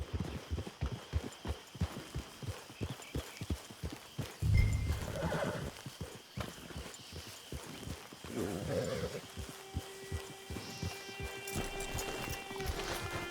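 A horse in the Red Dead Redemption II video game gallops with rapid rhythmic hoofbeats and lets out loud neighs and whinnies, close and prominent, with a faint tonal game sound near the end.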